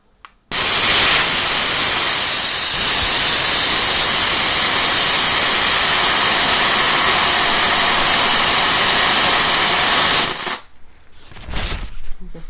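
A Kaasen lymphatic massage device runs with a loud, steady hiss close up for about ten seconds, then cuts off abruptly, leaving faint rustling.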